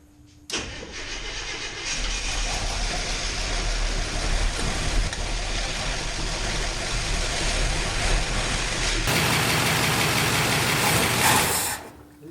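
A 1963 International Harvester Travelall C1100 engine cranks and catches, then runs at a rough, loud idle close by for about ten seconds before cutting out; a voice may be faintly present under the engine.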